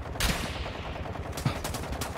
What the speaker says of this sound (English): I'm being shot by another team now